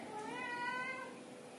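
A house cat meows close by, one drawn-out, wavering cry over faint background hiss, with no talking.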